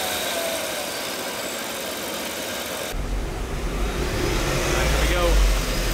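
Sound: supercharged Cadillac Escalade engine running on a dyno

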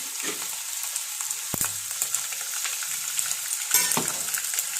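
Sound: mustard seeds sputtering in hot oil

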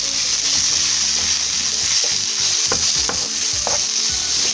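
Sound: onion and garlic frying in a pan for chickpeas with spinach

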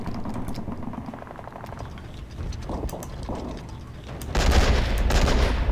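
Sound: hull machine gun firing in Men of War video game

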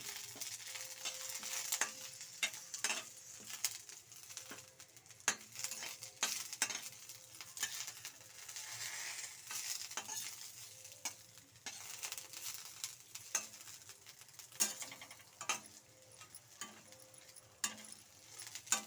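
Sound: curry leaves frying and being stirred in a pan

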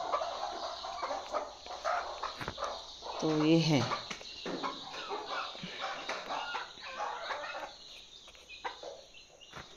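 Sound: chickens clucking in their shed

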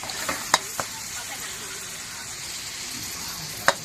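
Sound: stir-frying pad thai at a street stall

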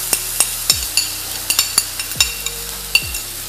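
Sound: clams being stir-fried quickly in a pan

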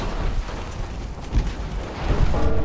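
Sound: torpedo launched from warship in Ultimate Admiral: Dreadnoughts video game

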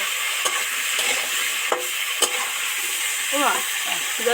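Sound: red potatoes, potatoes and tomato being stirred and fried

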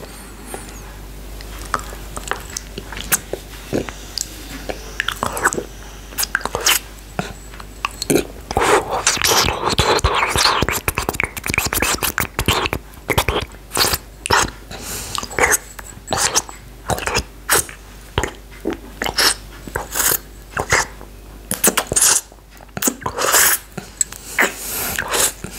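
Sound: chewing cola gel candy

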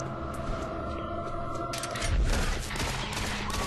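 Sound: zombie gunfire in the video game Doom 3

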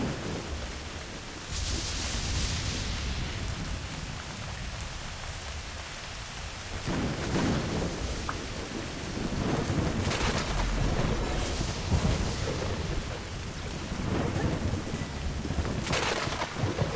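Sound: heavy rain and thunder in the video game Kena: Bridge of Spirits

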